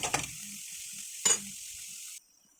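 Onion sizzling in a pan for a lentil dumpling curry, a steady bright hiss broken by two short scraping stirs, close and clear, cutting off near the end.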